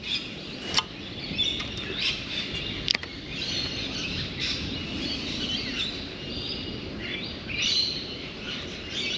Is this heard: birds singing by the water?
yes